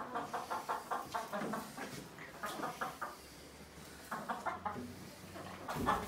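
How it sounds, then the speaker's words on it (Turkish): Roosters and chickens cluck in repeated rhythmic bursts nearby, pausing briefly midway before resuming, with a faint low hum underneath. "Horozlar da geldi."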